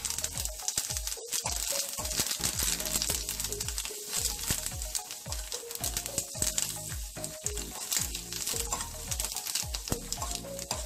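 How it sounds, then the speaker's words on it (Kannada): Mustard seeds, urad dal and curry leaves crackle and sizzle continuously in hot oil for a South Indian tempering, a dense spattering fry with rapid pops throughout. "ಸಾಸಿವೆ ಸಿಡಿದಿದೆ, ಉದ್ದಿನಬೇಳೆ ಹಾಕಬೇಕು."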